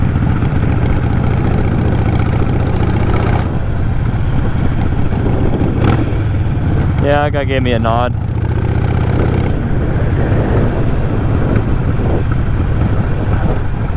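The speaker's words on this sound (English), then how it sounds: "this bike is significantly louder than any bike I've ever had" A Harley-Davidson Nightster 1200 motorcycle engine rumbles steadily and loudly throughout a ride, with wind noise and someone talking briefly over it.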